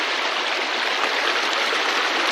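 A strong river current rushes steadily, a dense broadband roar of flowing water filling the whole stretch without pause, close and loud with no voices.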